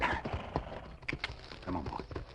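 Horse being led down a steep slope at twilight: irregular hoof clops and shuffling footfalls close by, some voiced sounds mixed in.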